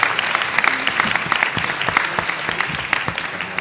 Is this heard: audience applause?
yes